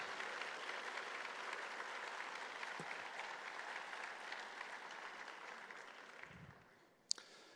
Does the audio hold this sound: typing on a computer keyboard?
no